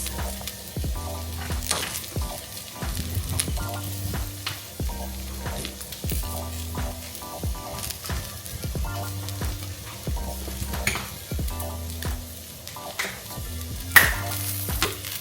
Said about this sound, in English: He's coating the Brussels sprouts. And then I'm gonna let it cook on there for a few minutes.